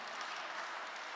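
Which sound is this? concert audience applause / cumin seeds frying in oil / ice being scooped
concert audience applause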